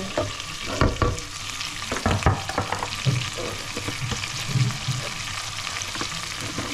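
Onion and garlic frying in a pan sizzle steadily, with irregular clattering scrapes and knocks of stirring throughout, close and moderately loud with no speech.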